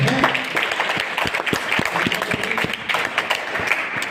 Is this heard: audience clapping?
yes